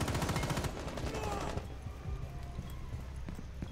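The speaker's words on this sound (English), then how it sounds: "Someone's shooting me from bar." Rapid gunfire in Rainbow Six Siege on the Kafe Dostoyevsky map, a dense burst of shots for the first second and a half, then scattered sharper reports over lower background game noise.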